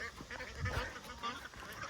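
Ducks quack in a short, faint burst of nasal honks outdoors, a few overlapping calls close together.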